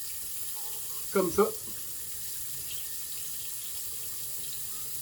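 Tap water running into a bathroom sink while a face is rinsed, a steady faint flow with a short burst of splashing near the start and a brief spoken word.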